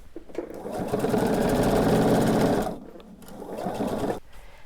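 A sewing machine stitches binding onto a quilt in a steady close run of about two and a half seconds, drops off, then runs again for a second short burst with no talk.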